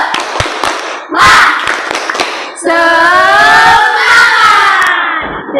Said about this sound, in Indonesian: Ayo kita tepuk semangat.